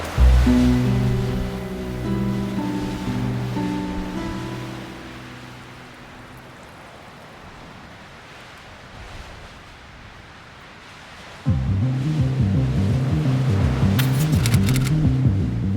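Ocean surf on a rocky stretch of southern Vietnam's coastline: loud continuous wash of waves that eases into a softer hiss mid-clip, then surges back up as a heavier wave rolls in.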